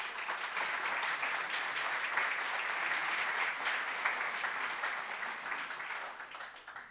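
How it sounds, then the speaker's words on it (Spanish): An audience at an employability and entrepreneurship forum applauds a speaker being introduced, a dense, steady clapping that fills the room throughout and fades slightly at the end. "os dejo con César Lahoud, para el que pido por favor un aplauso."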